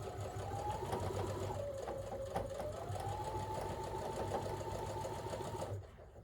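Sewing machine running steadily to stitch a seam, a continuous close whirring hum with a shifting motor pitch for nearly six seconds, then stopping abruptly.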